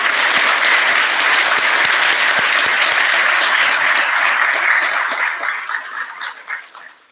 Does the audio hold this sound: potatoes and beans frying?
no